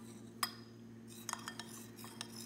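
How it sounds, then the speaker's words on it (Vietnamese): Spoon stirring peanut butter with warm water for a dipping sauce, soft scraping and light clinks against a bowl, a sharp tap followed by several quick faint knocks over a low steady background hum. "khuấy đều cho tan."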